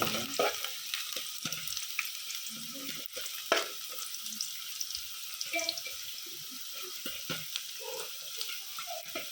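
Green chillies and curry leaves fry in hot oil as a steady, hissing sizzle, close by, with occasional stirring clatter and splashy bursts and no talking.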